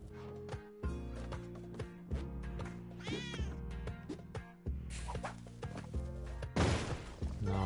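Cat meows from the Spelunky 2 video game, a few short mewing calls over busy game music, sound effects and a sharp crash near the end.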